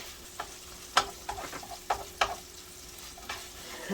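Sausage fries in a pan with a little fat for biscuits and gravy: a quiet, low sizzle broken by scattered crisp pops and a few utensil clicks, close by with no talking.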